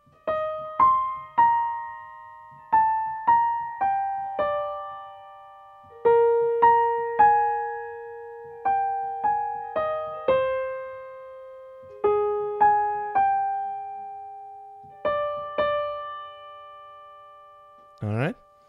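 A piano plays a melody section of a piece, with clear single notes in short phrases separated by brief pauses, close and alone.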